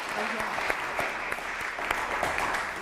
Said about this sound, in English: A huge round of applause, I think.